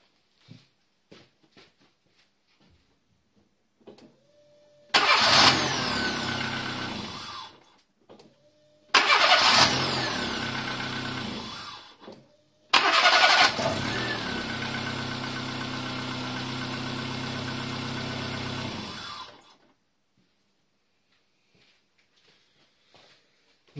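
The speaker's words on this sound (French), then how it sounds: "On va juste mettre le moteur en route." A Renault Twingo, just fitted with a new starter motor, is started three times in a row. Each time the starter cranks briefly before the engine catches and idles, and the final start settles into a steady idle before shutting off.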